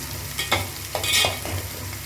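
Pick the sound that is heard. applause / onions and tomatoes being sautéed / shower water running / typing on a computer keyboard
onions and tomatoes being sautéed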